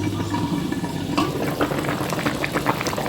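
Meat simmering in water in a covered pot, a bubbling, gurgling boil with soft irregular pops, close and steady throughout with no talk.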